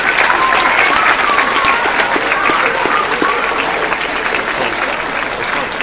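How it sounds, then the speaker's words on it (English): A middle school assembly audience applauds guests, including the New Jersey Attorney General, with loud, dense, sustained clapping from a large crowd that tapers slightly near the end. "I just want to give another round of applause to our guests today"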